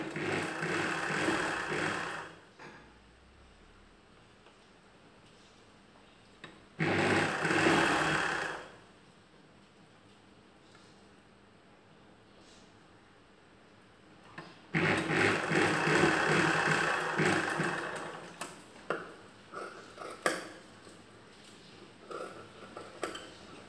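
A sewing machine stitches a folded edge on a joined blouse piece in bursts: a short run, a pause, a second run, then a longer stretch of fast mechanical whirring with clicks between runs.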